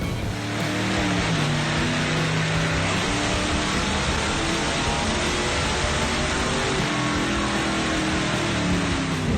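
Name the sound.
1978 Oldsmobile Delta 88 engine running on a dyno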